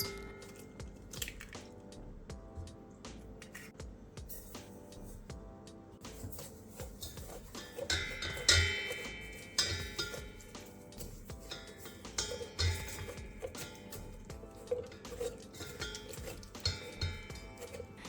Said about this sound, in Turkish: Varsa stand mikserinde veya bir karıştırma kabında yumurtaları ve şekeri biraz çırpıyoruz.